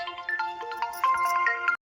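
A mobile phone ringtone plays a short, steady electronic melody at moderate volume, then cuts off abruptly, with no talking over it.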